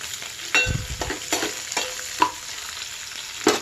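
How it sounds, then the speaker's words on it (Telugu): Spices for a green mango masala frying in a pan, with a spoon scraping and stirring in a few sharp, irregular strokes over a faint steady sizzle, close and fairly quiet. "లోపల దాకా పచ్చివాసన పోయిన దాకా అన్నీ వేయించుకోవాలి ఫ్రెండ్స్"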